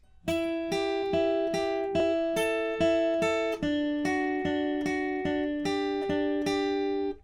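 A clean guitar riff played with steady alternate picking, even rapid notes repeating in a looping pattern, close and unaccompanied.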